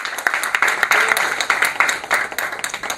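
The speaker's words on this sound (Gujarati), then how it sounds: "આપણે જોરદાર તાળીઓ આપણે એમના માટે પાડીએ" An audience at a stock market seminar claps steadily for the speaker, a dense run of close hand claps with no voices over it.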